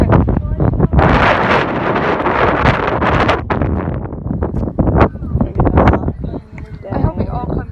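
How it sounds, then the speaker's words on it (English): Strong gusting wind buffets the microphone on a beach, a loud, continuous roar with rushing bursts, while people talk over it throughout. "the wind is ridiculous"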